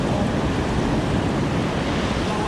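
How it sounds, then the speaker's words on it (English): Ocean waves breaking near a small boat, a loud, continuous roar of surf mixed with wind buffeting the microphone. "real waves coming."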